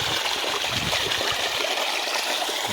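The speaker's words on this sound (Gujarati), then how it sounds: "એટલો કોસ મારે પાણીનો" Water gushes steadily from a pump on a farm well in Gujarat, a dense, unbroken rushing wash close by with no voices.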